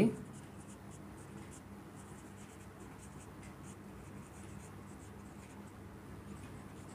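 Pen scratching out fractions by hand on paper, a steady soft scribbling texture running throughout, close and quiet with faint background hum.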